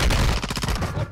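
Automatic gunfire from Warzone 2.0, likely a PDSW 528, in a dense close burst of rapid shots filling the first moments and then continuing more raggedly.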